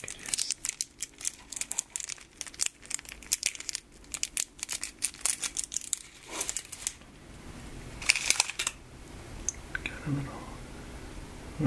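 Crinkly plastic wrappers on Japanese candy packages, including a steamed azuki bean cake, rustle and crackle up close in dense bursts, with a soft quiet voice in the gaps.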